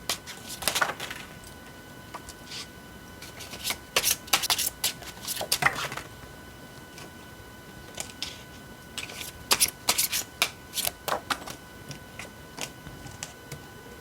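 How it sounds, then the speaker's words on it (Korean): Tarot cards are shuffled in crisp, papery bursts of riffling and tapping, close and fairly quiet, coming in irregular clusters with short pauses between them. "카드 살펴보도록 할게요."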